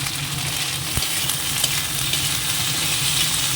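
Ginger paste and tomato paste frying with chicken in a pan make a close, continuous crackling sizzle with small stirring scrapes, steady for the whole few seconds without talk.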